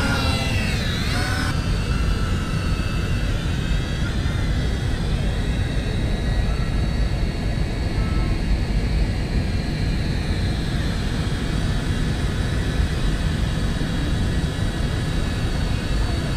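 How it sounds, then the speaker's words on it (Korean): Propellers of a Z908 Pro toy mini drone spin up for takeoff, a steady, loud, high-pitched whirring whine that holds constant throughout, with a brief rising tone at the start. "그 다음에 다시 12시로 올리면 프로펠러가 회전합니다."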